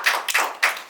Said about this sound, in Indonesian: Iya, luar biasa, tepuk tangan.